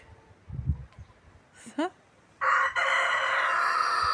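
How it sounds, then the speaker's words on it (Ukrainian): A rooster crows once loudly and close, a long sustained cry after a few short clucks and a faint call, heard on a countryside farm in spring. "Тільки підійдеш і він починає кричати."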